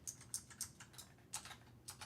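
Keypad buttons pressed one after another in Call of Duty MWIII, a string of crisp, close plastic clicks at an uneven pace over faint background hiss.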